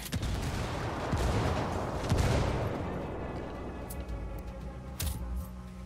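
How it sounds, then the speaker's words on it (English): Mortar barrage in Ghost Recon Wildlands: heavy booming impacts and rumbling blasts roll through a steady din of battle, with a big surge near the two-second mark and another sharp burst toward the end. "I call Pacatari for some mortar fire"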